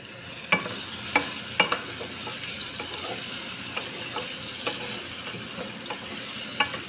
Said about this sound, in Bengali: পেঁয়াজটা একটু ভালো করে ভেজে নিব।